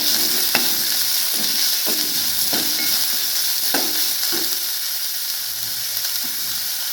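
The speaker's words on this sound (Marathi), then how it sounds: "आपले कांदे टाकून घेऊया।" Onions sizzle loudly in a pan with reddened garlic, chopped green chillies and masala for an egg masala, while a spoon scrapes and stirs in a steady rhythm throughout.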